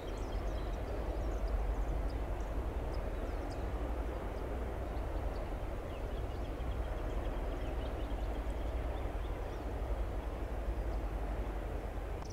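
A jet airliner lands at an airport, its engine roar a steady broad rumble that holds throughout at moderate distance, with no voices.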